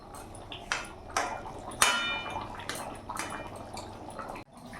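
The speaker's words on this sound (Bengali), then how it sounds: "এবার ভালো করে ফুটিয়ে নেব।" Yam and lata fish curry boiling in a pot on a gas stove, with scattered bubbling pops, small clinks and a steady low background hiss, moderately quiet and close.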